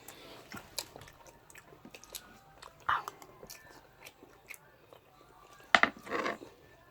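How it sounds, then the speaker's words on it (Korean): Someone eating kimchi fried rice, with soft intermittent chewing and biting sounds close by, a few sharper crunchy bites standing out, in an otherwise quiet room. "지금 김치볶음밥 먹방"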